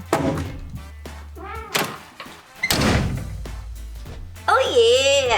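Several heavy, dull thuds of knocking on the heavy front door of a converted school bus, booming and resonant, shaking the bus, with people talking excitedly around them.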